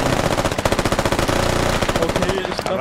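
Rapid bursts of pistol gunfire in the tactical shooter Squad, fired at close range in a steady fast rhythm of loud sharp cracks, fading out near the end.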